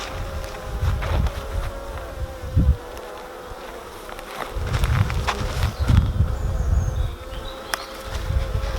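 Honey bees buzz around an open beehive with a honey super, close and loud, the drone swelling and fading as individual bees pass near, with occasional handling knocks.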